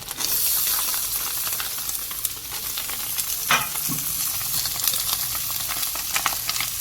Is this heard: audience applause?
no